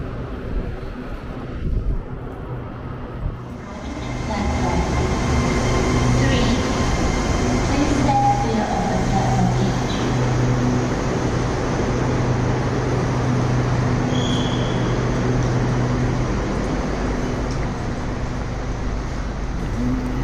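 A Bangkok metro train pulls out of a station and picks up speed, its loud, steady rumble and motor hum building after a brief quiet start and holding for most of the stretch.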